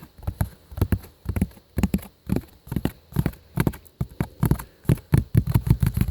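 Steady, hollow tapping on a cardboard sleeping bag box, close and crisp, in quick irregular bursts that speed up toward the end, with no talking.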